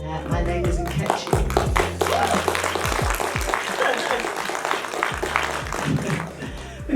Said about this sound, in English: We're getting a round of applause before we've even started.